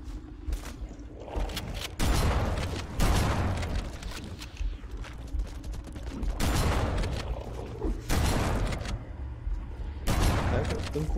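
Several loud, sharp shotgun blasts in Halo: Combat Evolved, in quick irregular succession, each with a booming tail, over a busy background of game noise.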